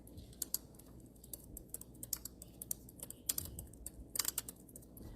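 Someone types on a computer keyboard nearby. The taps are quiet, light and uneven, arriving in irregular bursts with no talk over them.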